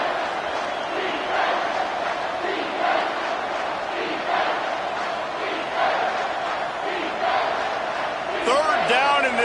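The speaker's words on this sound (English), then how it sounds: "This crowd will blow out a vocal cord to help this defense." A football stadium crowd roars continuously and loudly in support of the defense, a dense sustained wall of voices with surges, a whistle-like sweep near the end.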